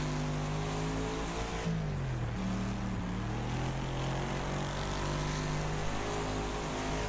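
A standard Starbeast car races an 11-car, 12-lap Wreckfest event, its engine a steady loud drone with shifting pitch that dips briefly as it changes gear, holding constant throughout with no voices.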